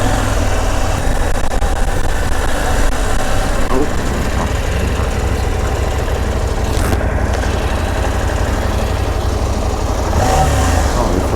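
An off-road motorcycle rides a sandy green lane, its engine droning loudly and steadily with slight rises in revs, heard from the rider's position with wind buffeting throughout.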